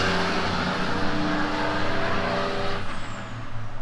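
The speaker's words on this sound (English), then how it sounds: "log trucks roll through every 30 seconds" A log truck rolls past on a road in Zavala, its heavy engine rumble and tire noise loud and close before falling away as it leaves, with an air-brake-like hiss at the start and no talking.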